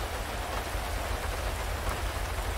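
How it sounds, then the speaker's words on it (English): Steady rain falls in the video game GTA V, a dense, even hiss of drops hitting surfaces that holds at a constant level throughout with no voices. "I love the way you can hear the rain pick up when you get out of the car."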